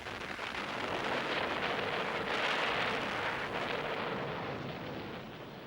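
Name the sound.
naval bombardment in WWII archival footage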